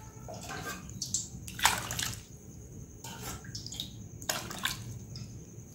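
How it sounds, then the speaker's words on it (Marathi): Water pours in several short, splashing bursts into a bowl of mixed lentils set to soak for dosa batter. It sounds close and moderately loud, with brief pauses between pours and no speech. "मी इथे भरपूर पाणी टाकत आहे"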